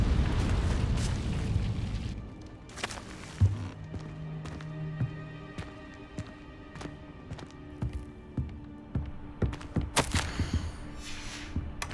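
Fiery Confringo blast spell erupting in the Hogwarts Legacy video game, a loud rumbling burst that fades into crackling debris and scattered pops, with footsteps and small impacts continuing after.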